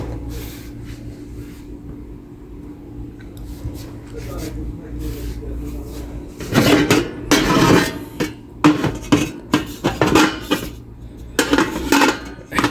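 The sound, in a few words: metal cooking pans being handled and sorted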